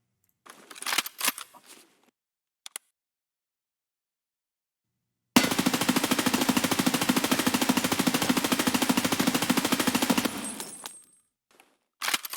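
A gun build in Escape From Tarkov fires a long rapid automatic burst lasting about five seconds, loud and evenly spaced, after some scattered earlier shots and a brief pause of silence.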